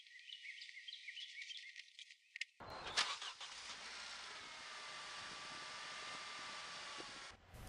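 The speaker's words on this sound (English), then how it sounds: "I started the car and brought the engine up to operating temperature" A Saturn car engine cranks and catches, then settles into a steady idle that runs on, warming to operating temperature after a coolant flush, with faint birdsong beforehand.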